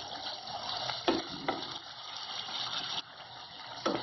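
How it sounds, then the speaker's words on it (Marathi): Ground masala paste fries in a pan, giving a steady, fairly loud sizzling hiss with a few sharper spattering bursts throughout, with no voices. "एक मिनटं चांगलं याला फ्राय करायचंय"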